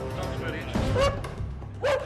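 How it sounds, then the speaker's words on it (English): A police sniffer dog searching a car gives a few short yips and whimpers, close and fairly quiet, amid scuffling and movement inside the vehicle. "his dog Copper have been brought in to search it thoroughly."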